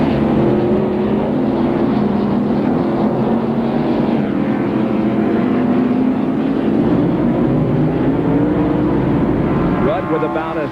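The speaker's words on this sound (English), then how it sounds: "these cars are coming by me" NASCAR stock cars roar past at speed in the 1991 Banquet 300, a loud, sustained engine drone with shifting pitch as the pack streams by, continuous and close for the whole stretch.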